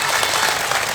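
Crowd clapping at a traditional Islamic sermon gathering for a haul memorial, a dense, even wash of claps lasting about a second with no pauses.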